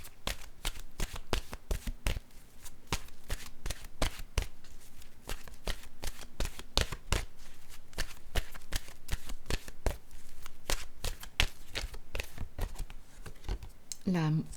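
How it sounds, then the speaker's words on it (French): Oracle cards are shuffled by hand in a long run of quick, crisp riffling clicks and slaps. The sound is close and steady throughout, with brief traces of voice near the end. "Je vais piger maintenant une carte de mon oracle de l'âme intuitive."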